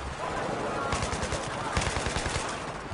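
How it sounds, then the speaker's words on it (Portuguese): Rapid automatic gunfire in the Battlefield 3 video game, a dense rattling stream of shots over a loud continuous game soundscape, with a voice speaking over it. "Tá vendo que eu tô atirando em policiais"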